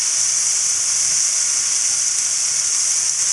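Zucchini and tomato cooking over a high flame: a steady, even sizzling hiss that holds constant throughout, close and moderately loud, with no talking.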